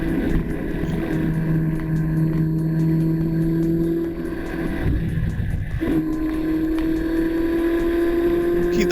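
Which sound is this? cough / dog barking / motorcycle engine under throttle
motorcycle engine under throttle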